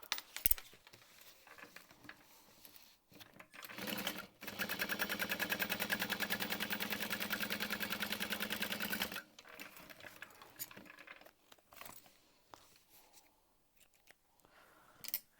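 Sewing machine running a quick top stitch along a handbag zipper, a steady rapid needle rattle for about five seconds, with quieter handling noises before and after.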